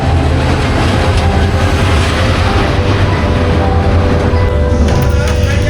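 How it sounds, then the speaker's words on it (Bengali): A train rolls into a railway station with a loud, continuous, close rumble of wheels and engine that holds steady from start to finish. "তারপরে ট্রেনের অপেক্ষা এবং ট্রেনের আগমন।"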